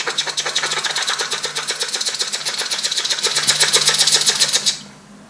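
A voice imitates a jigsaw with a loud, steady, rapidly pulsing buzz that runs for about five seconds and then stops abruptly.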